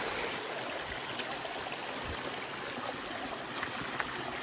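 Water from the hot springs at Shelokum Hot Springs north of Ketchikan, Alaska, flows and bubbles in a steady, close trickle with a constant rushing hiss and no voices.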